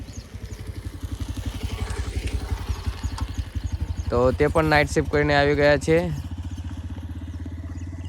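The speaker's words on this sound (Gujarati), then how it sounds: "આ પાછળ આવી રહ્યું છે આપણું બાઇક" A motorcycle engine chugs in a steady, even pulse throughout, with a person talking over it near the middle.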